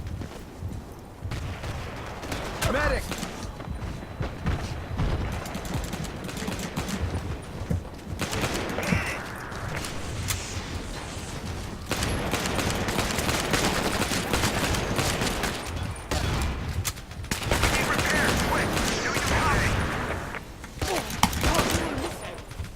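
Gunfire in the Battlefield Heroes game, with a USMC character firing a pistol, heard as rapid bursts of loud shots in irregular clusters over several stretches, mixed with game effects and a voice talking over it.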